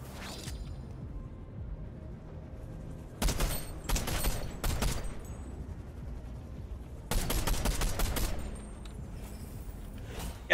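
Video game gunfire, likely in a Fortnite-style shooter, with a few shots early, then two loud rapid bursts of automatic fire separated by quieter gaps.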